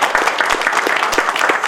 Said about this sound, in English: I request all of you to big applause for the guests who have come here